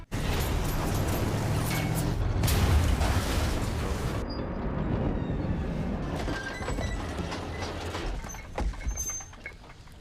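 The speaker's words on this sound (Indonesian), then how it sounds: "ternyata Atami berencana meledakkan belakang tanknya untuk bisa melewati perbatasan" A tank's rear section blown apart in a Sisu 2 film scene, a heavy booming blast with rumbling debris and crackle, dense and loud at first, then thinning into scattered clatter and a late thud.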